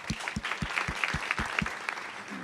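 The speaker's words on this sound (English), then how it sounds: "Big hand of applause." Audience clapping for the next lightning-talk speaker at a ReactJS Dublin meetup, with steady, dense applause throughout and a few sharper individual claps standing out near the front.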